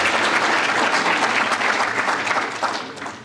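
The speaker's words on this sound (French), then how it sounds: "On peut les applaudir." An audience at a French departmental presentation gives a full, loud round of applause. The clapping stays dense and steady, then tapers off slightly near the end.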